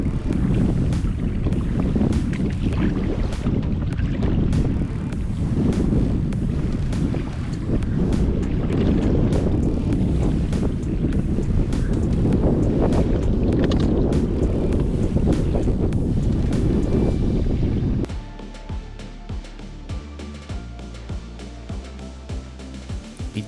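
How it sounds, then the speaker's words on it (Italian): Strong wind roaring against the microphone with water rushing past a boat at sea for most of the clip, dropping abruptly to quieter lapping and creaking near the end. "Oggi questo vento proprio non decide a calare"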